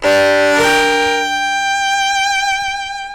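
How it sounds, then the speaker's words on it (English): A three-note chord bowed slowly on a string instrument, with shaped bow strokes: a loud, rich sustained tone that swells at the start, then settles into a long held ring with gentle vibrato, played alone. "So if I slow it down and play the three-note chord"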